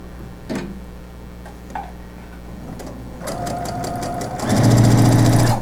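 A sewing machine stitches a seam along cloth napkins, starting with a few isolated mechanical clicks before the motor runs steadily and grows louder into a fast, continuous whirring hum near the end.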